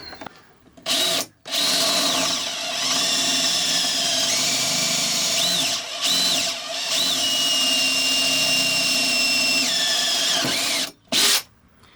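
Power drill boring holes through the floor of a Burstner 744 motorhome van, a loud whining motor running in long sustained bursts with rising pitch at each start and short pauses between them.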